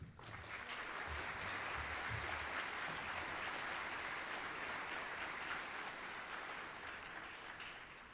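Audience applause at the 2011 Connecticut Housing Coalition Conference as a speaker is welcomed: a broad, sustained roar of clapping from a large hall, steady throughout and tapering slightly at the end.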